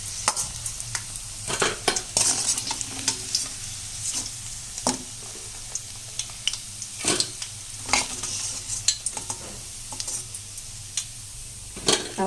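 Masala vadai fry in oil with a low steady sizzle while a utensil repeatedly scrapes and taps the pan in irregular bursts, close and fairly quiet.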